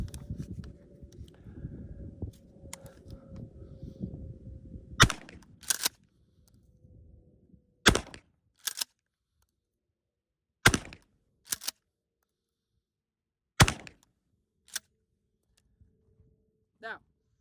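Four loud, sharp shotgun blasts from a Mossberg Shockwave fired at a USPSA target 15 yards away at an outdoor range, spaced a few seconds apart, each cracking then dying off quickly, after a stretch of wind and rustling noise.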